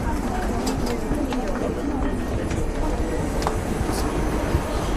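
A steady, dense rumble of a passing subway train at Sam Yan station fills the clip, loud and continuous with clattering, while a voice talks faintly underneath.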